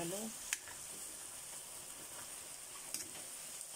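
Chicken curry meat sizzles softly in a pan with a steady crackling hiss, and a couple of brief utensil scrapes punctuate the stirring. The sound is quiet and close, and there is no talking.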